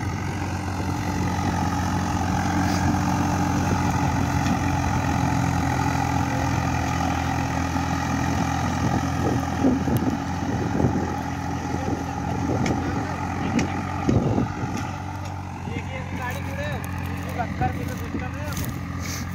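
A Swaraj 855 FE tractor of 55 horsepower, paired with a 16-disc harrow, runs with a steady low engine drone close by and outdoors, while people talk over it.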